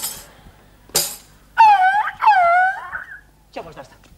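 A dog whimpers and wails in a radio comedy sketch after being hit by a car, two drawn-out moaning cries loud and close, between short bursts of other noise.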